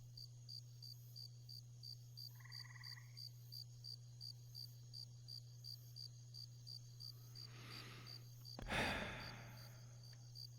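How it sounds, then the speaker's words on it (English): Night outdoors with crickets pulsing in an even rapid rhythm and frogs croaking in short bursts, faint over a steady low hum, followed near the end by a louder rustling swell. "Because now there's crickets and frogs."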